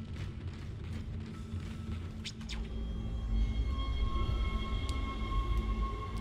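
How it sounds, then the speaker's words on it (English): Tram in the Dead Space game rumbling into motion aboard the Ishimura, a deep low rumble building in strength with brief clanks and steady whining mechanical tones. "All aboard the Ishimura tram system"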